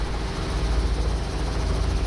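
A Robinson R44 helicopter's engine and rotor drone steadily and loudly up close, a continuous low rumble with a faint rhythmic beat and no talking.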